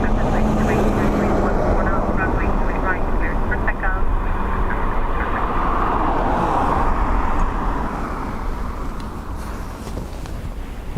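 A Ryanair airliner taking off from the north runway at Dublin Airport, a loud, sustained engine roar that holds steady and then eases slightly as the aircraft moves away.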